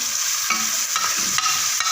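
Garlic and ginger paste fries in a pan at home for handi kebab, a steady close sizzle broken by several scraping stirs of a spoon, with no voices.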